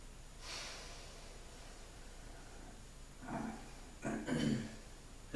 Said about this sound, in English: You take a deep breath.